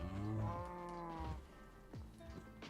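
Minecraft cows moo in a snowy survival world, one long low moo followed by a couple of shorter ones, fairly close and clear with no talking over them.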